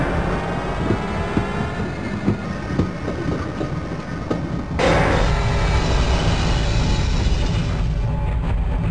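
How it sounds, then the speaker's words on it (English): A tram runs on rails in the Half-Life video game, a steady loud clickety-clack rumble of wheels on track that swells and grows denser partway through, with no voices. "we're going to be spending a lot of time on this tram in this chapter"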